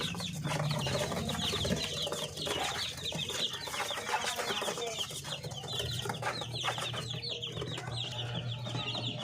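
Pure Parawakan and upgraded native chicks and chickens peep and cluck in a busy chorus of overlapping high calls, fairly faint and continuous, with a low hum beneath.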